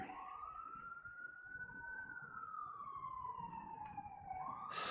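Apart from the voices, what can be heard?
ambulance siren passing by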